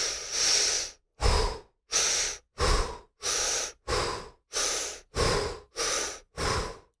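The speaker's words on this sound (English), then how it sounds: "Breath work with Breathe with Sandy is what I'm doing at the moment" Rapid rhythmic breath-work breathing, about ten forceful close breaths in an even pulse with short silent gaps between them, with no talking.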